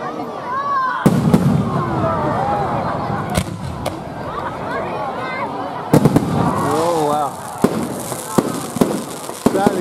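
New Year's Eve fireworks bursting over Voyager Memorial Park in Huskisson, NSW, a loud continuous barrage of booms, crackles and whistling rockets nearby, with a crowd cheering and calling out beneath the blasts.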